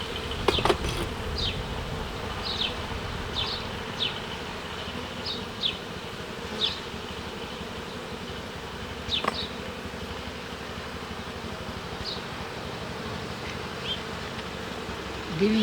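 Honey bees buzz steadily around frames lifted from an irregular Ukrainian-Alpine hive during spring honey extraction, a continuous close drone with individual bees whizzing past the microphone every few seconds.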